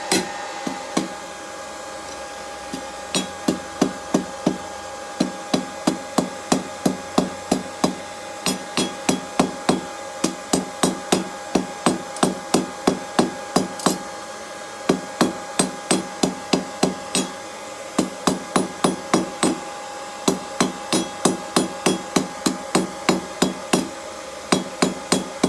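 A blacksmith hammers the heated steel tip of a BBQ toasting fork into a taper, producing sharp ringing anvil strikes in a fast, steady rhythm with brief pauses, loud and close with no talk.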